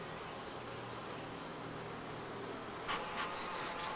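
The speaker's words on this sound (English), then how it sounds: "there's a lot of bees on there" Honey bees buzz steadily around an open hive box during an inspection, a dense, continuous hum close by with a couple of louder passes near the end.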